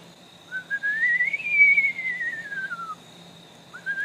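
A human voice imitates a loud whistle heard in Forbes State Forest, Pennsylvania: one long whistled tone rises in pitch, then slowly falls, and a second starts near the end, alone and close.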